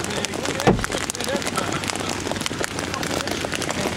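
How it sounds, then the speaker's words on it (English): Very large hail up to tennis-ball size, falling at Foss Lake, Oklahoma, pounds cement in a dense, steady clatter of hard impacts, close and loud throughout. "Very large hail."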